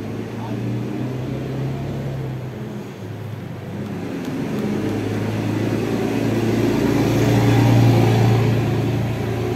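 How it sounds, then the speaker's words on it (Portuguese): A truck passes by outside, a low engine rumble that swells and grows louder toward the end, heard under someone talking. "Agora tá passando um caminhão."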